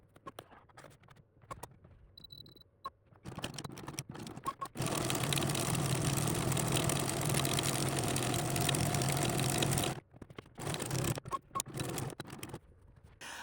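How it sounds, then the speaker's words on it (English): A sewing machine stitches around a scrap pillow in one long steady run of rapid mechanical whirring, with scattered clicks and handling noises before and after. "I sewed all around the outside of my circle"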